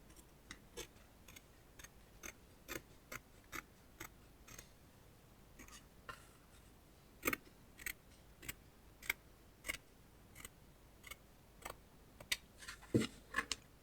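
Scissors snip through material for a handmade flex lunch box, a series of crisp, separate cuts at an uneven pace, close and quiet over near silence.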